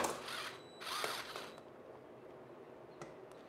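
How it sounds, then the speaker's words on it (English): Bolts tightened with a ratchet while fitting a two-person seat on an Ariel Rider Grizzly e-bike: two close bursts of rapid mechanical clicking, then quiet with a couple of faint taps. "I'm trying to tighten this."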